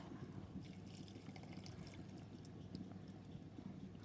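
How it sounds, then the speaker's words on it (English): Broth is poured into a pot, making a soft, steady trickle and splash that runs unbroken for a few seconds, faint and alone. "add a little broth."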